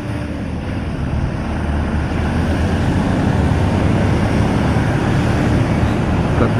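Outboard boat engines, 250s, rumble steadily at a boat launch, with a constant loud low drone mixed with wind noise and no break.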